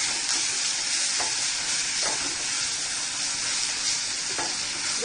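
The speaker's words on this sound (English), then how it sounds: "So to this I am going to add ginger garlic paste." Ginger garlic paste hits three medium onions fried in two tablespoons of oil, setting off a loud, steady sizzle that hisses continuously from start to finish with no voice over it.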